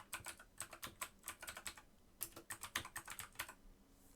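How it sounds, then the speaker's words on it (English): Fingers type a search term into a document's search box on a computer keyboard, quick bursts of crisp, close keystrokes in two runs separated by a short pause, with no talking. "I'm going to type in"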